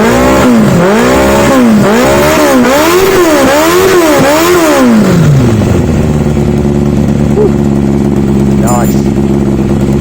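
A motorcycle engine, first startup in a new frame, revs up and down repeatedly and loudly close by, then drops back to a steady idle with a faint high whine late on.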